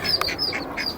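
Ducks in a sewer give several short, sharp quacks in quick succession, close and echoing, with no talking.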